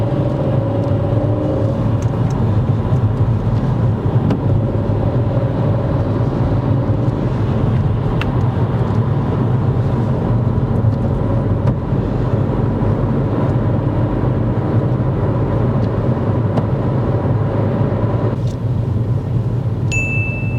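A learner driver's car on a dual carriageway, heard from inside as a steady, loud low road-and-engine rumble with wind noise that holds for a long stretch, a faint brief ding near the end.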